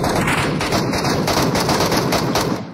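Rapid, loud gunfire from an in-game weapon in a Fortnite match, a dense continuous burst of shots close up for nearly three seconds, with no talking over it.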